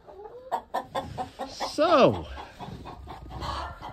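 Roosters and hens in a backyard flock cluck close by in short repeated bursts, with one louder rising squawk midway, while someone speaks briefly over them.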